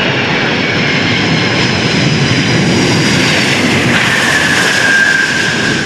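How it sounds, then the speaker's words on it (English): Antonov An-225 Mriya, a huge six-engine cargo plane, landing at Perth airport, producing a loud, continuous broadband jet roar with a rising whine, steady throughout and close. "this is the first time the Antonov has landed in Australia"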